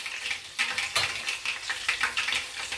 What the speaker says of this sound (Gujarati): રાઈ ફૂટી જાય, રાઈ ફૂટે જ છે પછી જીરું નાખી અને વઘાર મારી દઈ.